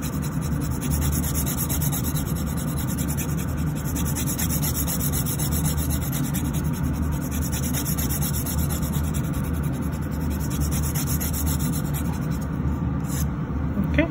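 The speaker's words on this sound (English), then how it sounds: "Again, filing up to that imaginary line here" Filing a natural fingernail into a tapered oval gives a close, continuous scratchy rasping, steady short strokes rubbing back and forth at low volume with no voices.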